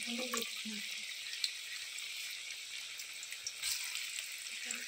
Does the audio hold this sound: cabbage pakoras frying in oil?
yes